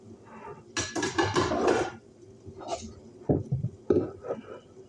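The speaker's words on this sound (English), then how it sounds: "I'm just taking the noodles out" Spaghetti noodles lifted out of a cooking pot with a utensil, heard as close clinks and scrapes of metal against the pot in short irregular bursts, with no voices.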